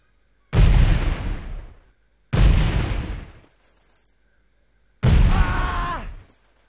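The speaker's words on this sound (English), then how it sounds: "let's pull out our grenades" Three loud, close grenade blasts in a Delta Force combat game, each a sharp broadband burst that decays over about a second, spaced with short quiet gaps between them.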